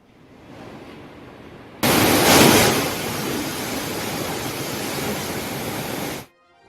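Krishna River floodwater rushes out through the lifted gates of Srisailam Dam: a quiet background jumps abruptly into a loud, steady, broadband roar that holds for several seconds before cutting off near the end.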